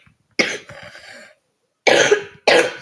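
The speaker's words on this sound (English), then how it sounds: "my cough is terrible today." Three harsh coughs close to the microphone, one drawn-out cough followed by two quick bursts after a pause, with no talking.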